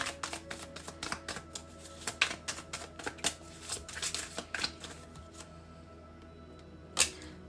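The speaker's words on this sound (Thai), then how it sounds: "เราเปิดไพ่ก่อนเนาะ" Tarot cards are drawn and laid out with a run of quick, light card snaps and flicks, close and quiet, ending with one sharper slap.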